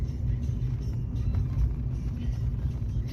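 Oncoming traffic on the opposite side of a mountain ghat road gives a brief, steady low engine rumble, close and fairly loud, with no talking.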